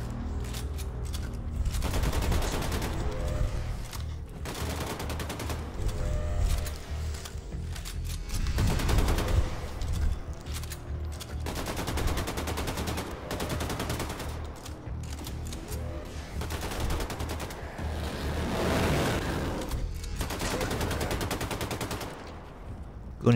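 Sustained automatic gunfire in the Wolfenstein II: The New Colossus shooter game, loud rapid bursts recurring every few seconds over a droning soundtrack with no talking.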